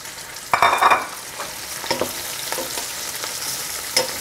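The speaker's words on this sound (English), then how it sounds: "when they fry a little bit, you can put the mushroom" Mushrooms and onions frying together in a pan, a soft steady sizzle with scraping stirs from two spoons and occasional brighter clicks, heard close with no talk.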